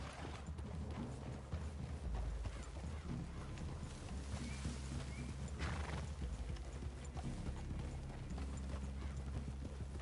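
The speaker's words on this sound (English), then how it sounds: "I'd leave your horses the other side of this clearing" Horses' hooves clip-clop at a walk near a forest clearing, with an occasional whinny over a continuous low outdoor rumble.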